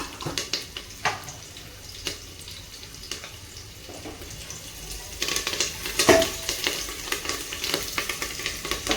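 Cumin seeds sauté in hot oil in a pan, a steady close sizzle punctuated by clinks and scrapes of a spoon stirring, growing busier and louder toward the end, with no voices.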